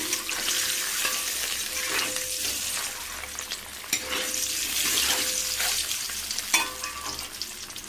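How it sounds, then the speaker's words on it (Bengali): Eggs fry in a pan ahead of a Bengali egg curry, a steady loud sizzle with bursts of crackle and spatter and occasional stirring scrapes, and nobody talks. "ডিম কষা করব, তাই জন্য ডিমটা একটু ভেজে নিচ্ছি"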